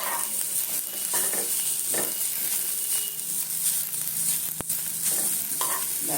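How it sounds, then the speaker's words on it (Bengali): Tender drumstick (moringa) greens with onion fry in a pan, a soft steady sizzle broken by repeated scraping stirs and one sharp clack of the utensil against the pan. "ও দেখো শাকটা সুন্দরভাবে ভাজা হয়ে গেছে"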